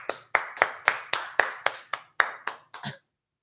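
About ten crisp hand claps at a stadium, close and alone, in a steady rhythm that slows slightly and softens toward the end.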